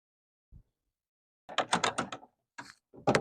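Ratchet loosening the 13 mm battery hold-down bolt on a 2021 Silverado 1500, heard as a single click and then quick bursts of close, dry clicking strokes.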